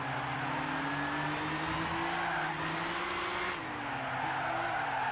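Race car in Gran Turismo 6 skidding off course, engine droning loud and steady with a sliding tire squeal that dips and recovers near the end, no voices over it.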